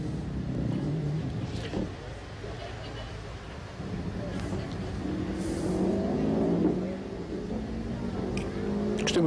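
Rally cars, including Subarus, race on a Rali Vinho Madeira 2011 stage in Madeira, an engine rising and revving at mid distance beneath steady talk.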